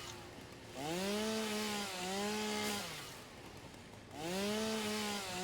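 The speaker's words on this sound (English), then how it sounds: "One guy in his chainsaw, tearing down the world." A chainsaw cuts trees in the video game Satisfactory, its engine revving in repeated rising-and-falling bursts, loud and close with brief dips between cuts, no talking.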